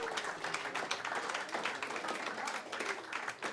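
A live comedy show audience gives steady, dense applause for comedian Dan Borman, continuous clapping filling the room at fairly close range with a faint voice underneath.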